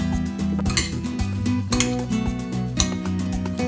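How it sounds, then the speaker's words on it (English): Pico de gallo salsa of fresh chopped ingredients being mixed with salt in a bowl, with busy clinking and scraping of a utensil against the dish, close and steady over a backing of music. "Season it with a little bit of salt and mix everything together."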